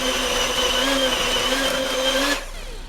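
Mapei self-leveling concrete churned by a mixer, a steady whirring motor hum with a shifting pitch that cuts off abruptly near the end.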